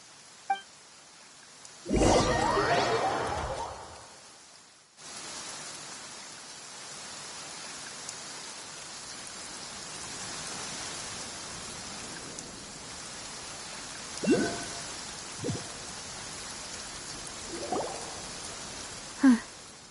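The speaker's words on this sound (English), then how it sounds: "It's been raining non-stop for a few days now." Steady rain falls in a video game scene, a soft continuous hiss throughout, with a louder rustling burst near the start and a few brief sharp knocks later on.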